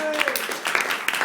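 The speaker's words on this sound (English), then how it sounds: "can we just have a round of applause for them?" Brief burst of audience applause at a stand-up comedy show, close, steady clapping with mixed voices.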